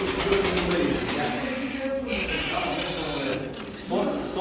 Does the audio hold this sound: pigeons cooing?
yes